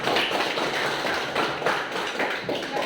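A group claps after a presentation at a teacher-training session, brisk, dense applause close by that stays fairly even for a few seconds.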